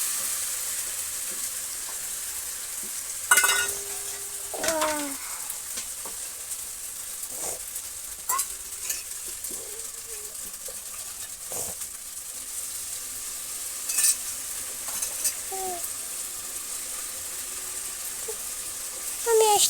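Spice paste of ginger, cumin and chili with oil, salt and turmeric frying with chicken in a pan in a village kitchen, a faint steady sizzle broken by scattered clinks and scraping stirs, no talk.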